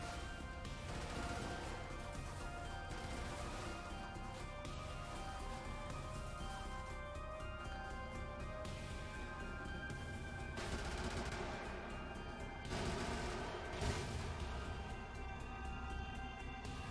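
Orbital guns fire in the video game Brigador, a dense, sustained barrage of booming shots and crashing impacts running throughout over layered game music and noise, loud and continuous with a heavier burst near the end.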